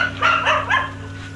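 A dog barks and yips a few times in short bursts near an old house at midnight, fairly close and loud against a low background hum.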